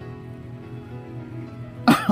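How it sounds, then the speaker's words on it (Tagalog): After a quiet stretch of low hum, one sharp cough breaks out near the end, followed by a softer second one. "Sorry, may ubo ako ngayon."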